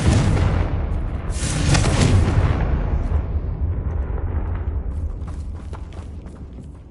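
A Confringo explosive spell blast in Hogwarts Legacy: a loud, booming burst that rolls on and slowly decays into a rumbling tail, with a few crackling pops near the end.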